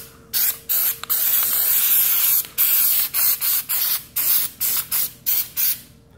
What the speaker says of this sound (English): now we're gonna lube the daylights out of these springs